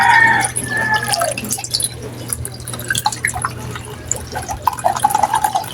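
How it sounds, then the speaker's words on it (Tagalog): Mineral water poured into a pot of soup broth made with guava leaves, a light uneven trickle and drips of liquid at close range, fairly quiet with no talking. "Yung isabaw ko dito mga guys ay yung sa mineral na tubig."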